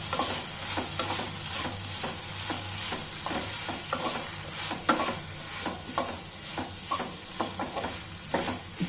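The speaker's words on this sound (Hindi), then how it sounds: "हमें ये प्याज और जो भी हम वेजिटेबल्स डाल रहे हैं वो हमें ज़्यादा नहीं पकाने, हल्का टॉस ही करना है।" Sliced onions and mixed vegetables for soya chunk paneer chilli are lightly tossed and stirred in a hot pan. Soft, steady sizzling runs beneath repeated scraping strokes of the spoon, close and fairly quiet, with no talk.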